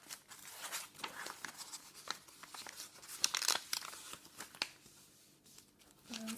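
Paper is folded and tucked by hand to make a bookmark, giving soft, close crinkles, rustles and brief scraping sounds in irregular bursts.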